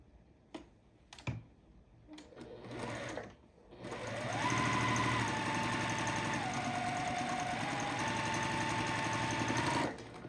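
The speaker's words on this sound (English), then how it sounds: "I can chain sew them at this stage." Sewing machine chain sewing quilt block pieces, a few handling clicks and thumps first, then a steady, close mechanical whir running for several seconds with a slight pitch shift as speed changes.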